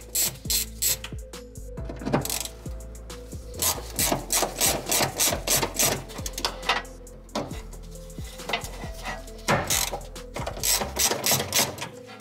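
A ratchet undoes 8mm fuel pump bolts during a Walbro 450lph fuel pump upgrade on a Mitsubishi Evo X, producing bursts of quick, loud clicking in repeated rhythmic runs, close up, with brief pauses between strokes.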